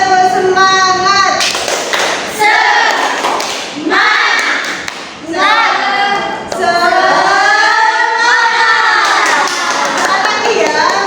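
Tenth-grade students in an Islamic jurisprudence class doing the rhythmic 'tepuk semangat' clap routine: a group chanting loudly in unison, punctuated by sharp patterned hand claps and thumps, with brief pauses between phrases.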